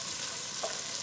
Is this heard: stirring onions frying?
yes